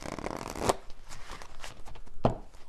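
Tarot message cards are shuffled by hand in two crisp riffling bursts, one early and one near the end, with soft card rustling between them and nobody talking.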